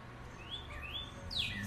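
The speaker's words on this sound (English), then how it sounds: "You hear them birds talking to each other." Birds chirp outdoors, a few clear rising and falling whistled calls over a soft background, fairly close and moderately loud.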